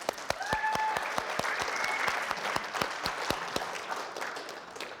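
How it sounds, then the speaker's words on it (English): A seminar audience claps steadily, with a few sharp, close claps punching through a broad wash of crowd applause that continues evenly throughout. "So clap it up for Elise if you could."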